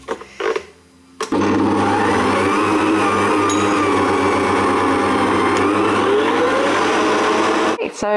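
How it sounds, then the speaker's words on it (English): An electric stand mixer whips vegan marshmallow mixture with a loud, steady motor whir and hum that runs unbroken for several seconds. A short, quieter stretch comes before the motor starts, and the whir stops abruptly near the end. "I'm going to take it out of the mixer now"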